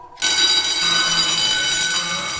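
A loud, steady electronic alarm bursts on abruptly and keeps sounding, a continuous high-pitched tonal blare with layered harmonics and no pauses.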